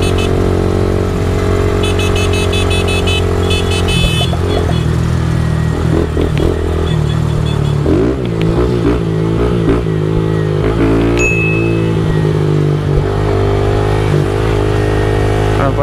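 A 2022 Honda Titan motorcycle with a fault idles loudly nearby and revs up and down repeatedly, with a steady low drone throughout and occasional sharper bursts.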